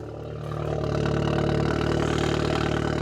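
A tuned Audi A3 runs with a steady, loud exhaust drone that swells slightly and holds, recorded up close near the tailpipe.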